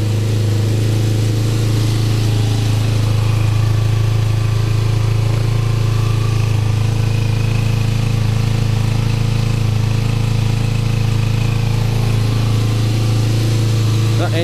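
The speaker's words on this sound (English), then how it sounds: "That engine sounds really good." An old motorbike engine idles steadily right after its first start following long disuse, a loud, close, continuous low hum with a faint rattle thought to come from the clutch.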